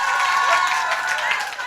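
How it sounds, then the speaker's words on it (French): Audience applause and crowd noise fill a French-language educational conference as it closes after contest results, a dense, loud, steady wash of clapping that holds for the whole stretch. "Des applaudissements pour eux."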